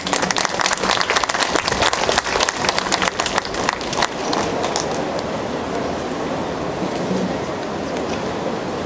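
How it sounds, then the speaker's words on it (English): Dense audience applause at a National Library Board event fills the room for a guest called to the stage, sharp and busy for about four seconds before easing into a steady, softer wash of clapping. "Friends, a round of applause for Ms."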